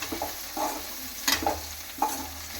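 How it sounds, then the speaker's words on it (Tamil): Onions and green chillies sautéing in a pan for chicken sukka, a soft continuous sizzle with a few brief stirring scrapes at intervals, close and fairly quiet with no talking. "பச்சை மிளகா வெங்காயம் ஒன்றாவே போட்டு வதக்கலாம்"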